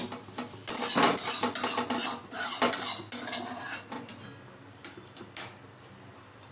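Potato filling for capsicum chops scraped from a pan into a pot, with clattering metal spoon and utensil knocks in bursts, loud and close, tapering off to a few final taps.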